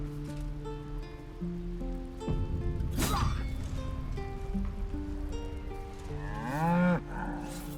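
Ox mooing in Baldur's Gate 3, a deep drawn-out low bellow rising over ambient game music and soft rain, with a louder, closer moo near the end.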